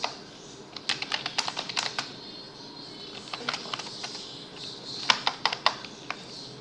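Fingers type code on a computer keyboard, giving close, crisp key clicks in quick bursts separated by short pauses, with no voices.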